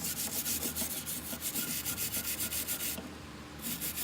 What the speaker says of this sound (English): Get your brush. Scrub the great big chunks off.